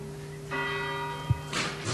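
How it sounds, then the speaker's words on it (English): A clock chimes the quarter hour, ringing a clear, sustained bell tone that hangs and decays, with a small thump partway through and faint room noise around it. "The clock chimes every quarter hour."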